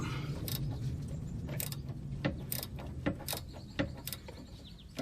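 A wrench works a nut loose on a sway bar link of a Toyota Highlander or Lexus RX330, giving a few separate sharp metallic clicks and clanks close by over a low steady hum.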